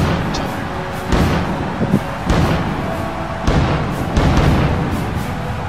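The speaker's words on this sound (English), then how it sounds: "Hey, easy with the fireworks there." Fireworks go off in a run of repeated booming thuds, roughly one each second, over a steady crackling background, loud and close.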